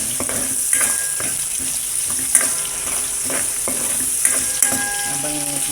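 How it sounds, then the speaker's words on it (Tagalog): Crushed mung beans are sautéed with garlic and onion in hot oil, giving a bright continuous sizzle with occasional scraping and clinking as a utensil stirs the pan, close and fairly loud. "Gigisayin na natin yung ating binurog na munggo."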